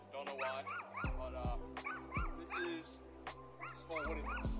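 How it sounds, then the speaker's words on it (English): A small dog barks and yips repeatedly in short bursts, fairly close, with some whimpering, while people talk over it outdoors on a golf course. "we have an annoying ass little dog that is currently barking."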